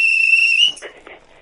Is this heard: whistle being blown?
yes